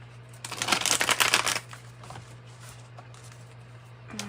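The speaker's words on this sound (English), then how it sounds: "One more good shuffle." A quick, crisp burst of tarot cards being shuffled, riffling for about a second, followed by faint handling noises over a low steady hum.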